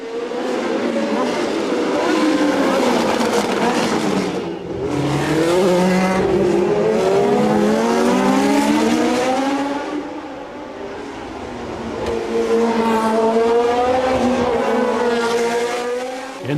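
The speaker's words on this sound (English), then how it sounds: "Danny Baker in his Shadow DN5 records the best lap and passes Gallego in braking up to the chicane" Historic 1966 to 1975 Formula 1 cars with wings, including a Shadow DN5 and a Tyrrell 006, race around the Monaco street circuit, loud engines wailing and shifting as cars pass in waves, with a commentator's voice under the roar.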